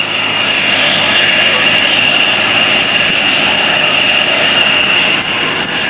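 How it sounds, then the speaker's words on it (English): Military and vintage aircraft in formation taxiing past the crowd at the Andrews AFB air show, a steady, loud engine roar and whine filling the whole clip with no breaks. "Look at the formation taxiing down here."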